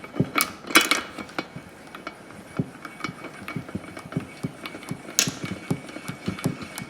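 Ratchet work loosening a part on the top end of a 1997 Ford F150 4.6L engine, giving scattered close metallic clicks and clanks of varying loudness in an uneven rhythm.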